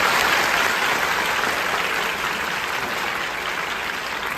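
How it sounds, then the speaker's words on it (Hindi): A university program audience claps loudly and continuously, a dense wash of applause that eases slightly toward the end, with no voices over it. "एक बार जोर से बजा दीजिएगा ताली।"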